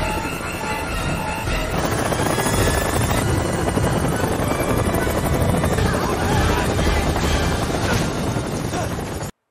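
A helicopter hovers and sways beside a cliff edge in the mountain-climbing film Vertical Limit, its loud, close rotor and engine roar steady and continuous throughout.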